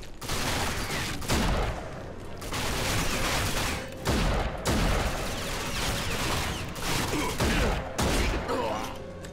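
Repeated bursts of gunfire from the video game Rage, loud broadband shots in clusters roughly every second or two with brief gaps, the shooter firing off the last few rounds.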